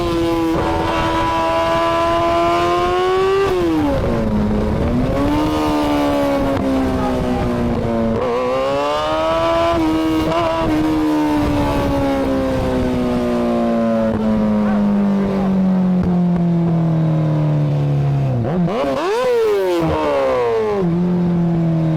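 A car and a motorcycle accelerate hard away from a traffic light on a highway, the motorcycle engine loud and close, climbing through several rising revs with brief drops between gear shifts.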